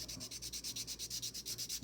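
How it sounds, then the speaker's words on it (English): Steady rhythmic rasping of a nail file sanding back and forth, about twelve quick even strokes, close and fairly quiet with no talking. "I'm gonna do some sanding with my"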